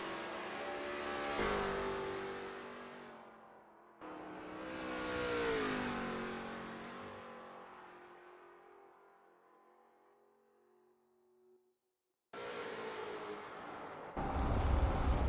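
A Lola T70 MkII Spyder race car engine at Spa in a video game revs and shifts through rising and falling gear-change sweeps, then fades away into near silence. It returns abruptly at full, harsh volume near the end.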